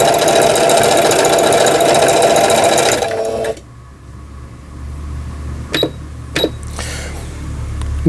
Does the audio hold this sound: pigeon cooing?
no